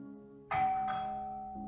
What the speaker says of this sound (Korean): 얼마 가지 않아 내 초인종이 울렸어.